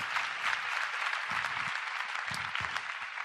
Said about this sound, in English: Come on, give them a hand clap for sowing.